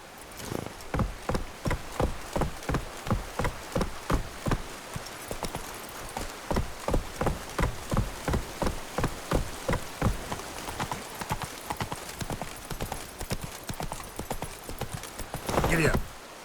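A horse galloping in The Witcher 3, with rapid, evenly spaced hoofbeats that run close and loud throughout, easing slightly near the end.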